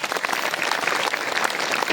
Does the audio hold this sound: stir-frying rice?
no